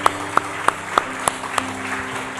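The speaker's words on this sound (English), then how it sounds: "Will somebody please clap your hands? Come on, people. Come on, keep clapping." Steady rhythmic hand claps from an audience at a motivational talk, about six evenly spaced claps over a hum of room noise, with no voices.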